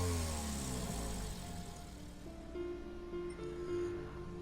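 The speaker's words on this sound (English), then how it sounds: "And here's the sound of the engine before switching up to a different car." The engine of a 2021 Subaru BRZ S in the video game Gran Turismo 7 revs with a rising, whining tone and then settles into a softer, fainter drone with a few pitch changes.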